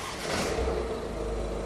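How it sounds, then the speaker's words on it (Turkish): A Ford Kuga's engine starts up with a low rumble and holds a steady idle. The engine sounds close and stands alone with no talk over it. "Çalıştırın arabayı."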